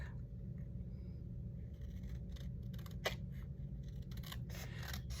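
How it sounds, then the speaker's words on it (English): Scissors snip through a paper tag during a paper-towel-roll flipbook craft, a single sharp cut standing out over a low steady room rumble, with a few faint scraping handling sounds around it. "My goodness, I had to cut my tag."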